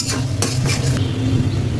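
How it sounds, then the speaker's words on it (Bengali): A spoon clatters and scrapes in a pan as garlic is stirred into frying ingredients for naga chili pickle, with a couple of quick metallic knocks over a low sizzle. "এ পর্যায়ে আমি রসুনগুলোকে দিয়ে দিচ্ছি।"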